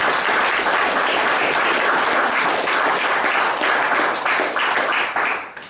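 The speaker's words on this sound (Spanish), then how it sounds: "Dale un aplauso grande a tu vida" Church congregation breaks into loud, sustained applause, a thick even wash of clapping that holds steady and then tapers slightly at the end.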